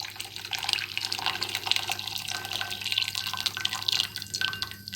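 Two cups of boiling water pour from a kettle while making Ramadan sweets, producing a continuous close splashing trickle that stays fairly even throughout, with no speech.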